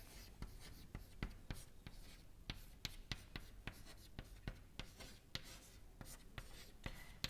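Chalk or marker writing on a lecture board, a quick rhythmic series of faint taps and short strokes running steadily throughout with no voice over it.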